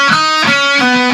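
Distorted electric guitar plays a quick pull-off lick from a song's solo, with a few rapid picked notes in a steady, loud, close run and no talking.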